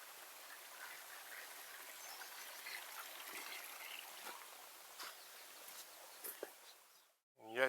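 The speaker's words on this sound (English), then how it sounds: "I can hear the stream" A stream flowing beside a hiking trail near San Mateo Peak in Riverside County, a steady close trickle and gush of water with a few brief splashes, ending in a short rustle.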